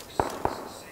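Two sharp gunshot cracks in the PUBG battle royale game, a quarter second apart and somewhat distant, over low background hiss.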